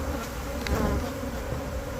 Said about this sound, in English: It's full of the bees.